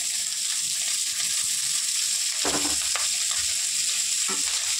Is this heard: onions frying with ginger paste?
yes